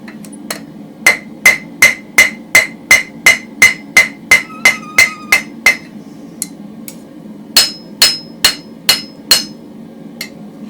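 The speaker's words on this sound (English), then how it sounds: "Just planish it. What you're doing is planishing." A blacksmith's hammer planishes hot steel on an anvil while forging a toasting fork, ringing in a fast run of evenly spaced strikes, then a pause and a few more blows, loud and close.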